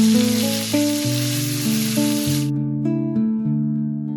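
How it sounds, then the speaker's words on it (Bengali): Eggplant pieces sizzle loudly in hot oil for a Bengali sweet-and-sour kalia, the steady hiss cutting off halfway while background music plays throughout. "গরম তেলে আমরা প্রথমে বেগুনগুলোকে ভেজে নিচ্ছি।"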